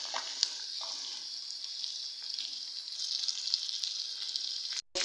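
Nigerian fried rice with sweet corn sizzles loudly in a pan, a steady close frying hiss with occasional stirring scrapes and a brief clatter near the end.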